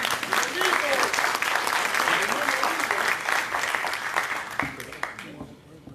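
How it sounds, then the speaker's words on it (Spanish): A crowd at a SUTESAL union event in Peru's Congress applauds an honored congressman. The clapping is loud and continuous with a little crowd noise mixed in, then tapers off near the end. "Un aplauso para él."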